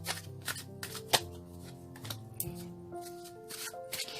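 Tarot cards riffled and shuffled by hand in repeated quick bursts of papery flutter, close and fairly loud, with a sharp tap midway and low background music humming underneath.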